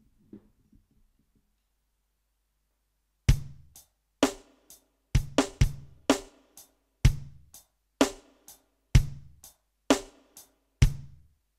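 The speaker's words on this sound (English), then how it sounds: "Play your kick on 1 and play your snare on 3." A drum kit plays a worship groove with a kick and snare pattern over hi-hat, sharp evenly spaced hits starting after a few seconds of near silence, close and clear with no talking.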